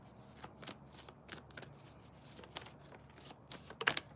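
A deck of cards is shuffled before one is pulled, making faint, close, repeated riffling flicks and soft taps. It ends in a slightly louder snap of cards, with no speech.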